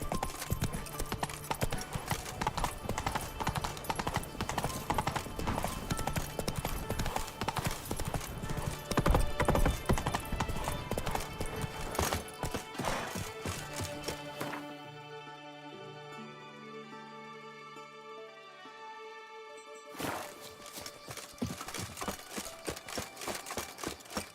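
Roach the horse gallops in The Witcher 3, with rapid, rhythmic hoofbeats drumming loudly. The hoofbeats ease off briefly in the middle, then pick up again toward the end.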